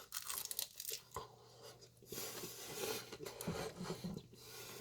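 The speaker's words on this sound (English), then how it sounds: "I really hope the microphone picked up that crunch" Crunchy bites into oven-baked potato skins topped with cheese and bacon, a run of rasping, crackling crunches close to the mic with no talk.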